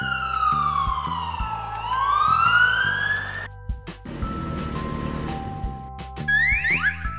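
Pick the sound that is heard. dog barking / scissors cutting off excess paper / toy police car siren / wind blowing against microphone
toy police car siren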